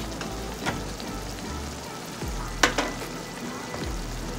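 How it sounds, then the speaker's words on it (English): Ayamase green pepper stew bubbling and frying in a covered pot, a steady soft crackling sizzle with a low hum beneath and one sharp clink partway through, no voices. "Now we cover and let it fry and cook for about 5-10 minutes"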